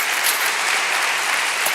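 An audience at a public talk applauds steadily, a dense, loud wash of many hands clapping that fills the whole short stretch with no voices over it.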